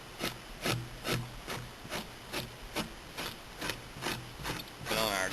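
A deer hide being tanned into buckskin is scraped in steady, rhythmic strokes, about ten rasping pulls evenly spaced, close and moderately loud, with no talk.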